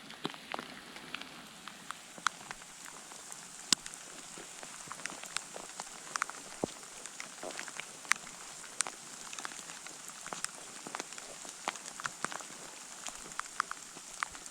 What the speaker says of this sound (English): It's been raining non-stop the whole morning